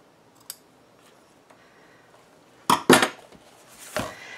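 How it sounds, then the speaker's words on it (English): Scissors snip paper ribbon tails on a baby scrapbook album, a few faint early clicks and then a cluster of sharp, close cuts, with one more snip at the end and no talk. "I'm just going to trim these if I can get my scissors to cooperate."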